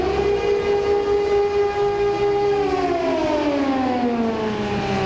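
A civil defense air raid siren sounds over Haifa, a loud sustained wail that holds steady and then slides downward in pitch, carrying alone with no talk.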